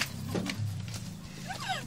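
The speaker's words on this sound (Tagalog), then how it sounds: "Ang kabayo ha, huwag kang maingay." A horse snorts and whinnies nearby at a market in Angeles City, with a short rising call near the end over a low rumbling background.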